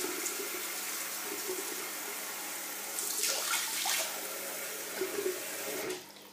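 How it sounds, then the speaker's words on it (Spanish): Water running steadily from a bathroom sink tap while a face is splashed and wetted, with brief louder splashing midway before the flow cuts off at the end. "Humedezco la cara."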